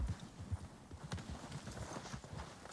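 Hooves of a white horse in Red Dead Redemption 2 clip-clop in a quick steady rhythm, faint and close, with no voices over it.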